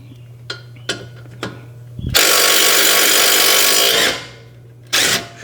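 A compact DeWalt power tool with a 17 mm socket breaks loose a front brake bolt on a 2004 Honda Civic, giving a few clicks followed by a loud, close two-second whirring rattle and a short final burst.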